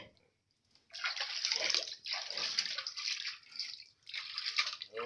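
Water runs and splashes in bursts through a clean pig pen on a pig farm, starting after a short silence and continuing steadily with brief pauses, loud and close.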